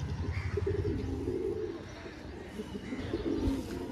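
A Satdum pigeon coos in low, murmuring phrases amid a busy background hum, the soft throaty calls recurring through the stretch.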